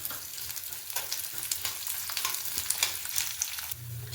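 Urad dal sizzles in hot oil in a home kitchen pan, a constant crackling hiss with small bursts of spatter, close and steady throughout, with no voices.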